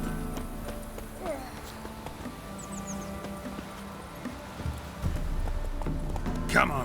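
Roach, Geralt's horse in The Witcher 3: Wild Hunt, gallops with steady clip-clop hoofbeats under game ambience and speech, carrying on throughout the stretch.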